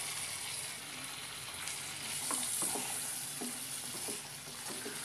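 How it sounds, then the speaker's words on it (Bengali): Boiled kabuli chickpeas fry in spiced masala for chole: a steady, fairly quiet sizzle runs throughout, with soft scrapes and taps of stirring scattered through the middle and no voices. "এরপর আমি এর মধ্যে সেদ্ধ করা কাবলি ছোলা দিয়ে দিচ্ছি।"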